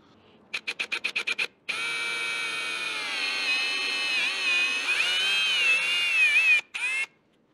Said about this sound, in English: making sure I drill these holes in the correct place.